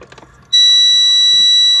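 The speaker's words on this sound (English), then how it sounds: "It's still got the most annoying buzzer in the world." A loud, steady electronic warning buzzer from a BMW E90 with an N54 engine and water damage sounds continuously after a short burst of low rumbling and clicking, holding unbroken to the end.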